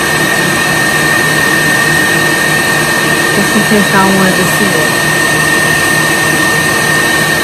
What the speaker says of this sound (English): Second under the hair dryer.